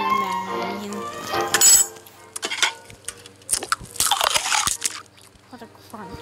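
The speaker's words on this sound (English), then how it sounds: "What a crunch." Loud crunching bites of food in an animated film's dinner scene, several sharp crisp crunches and clinks of dishes among music and chatter, with people talking around them.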